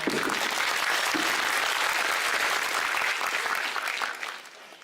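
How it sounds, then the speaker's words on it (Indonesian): Audience applause at an education forum, dense steady clapping from a crowd sustained for about four seconds before tapering off, with no talking over it. "tepuk tangan."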